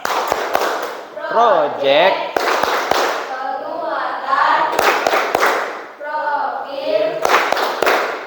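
A school class chanting together in the rhythmic P5 Pancasila student-profile clapping cheer, with sharp, close group claps punctuating the sung phrases in repeating patterned bursts.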